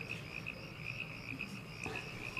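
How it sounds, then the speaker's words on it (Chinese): Frogs croak at night after a heavy afternoon rain, a steady, faint pulsing chorus of repeated calls with no voices over it. "所以到了晚上啊，这青蛙就闹得厉害。"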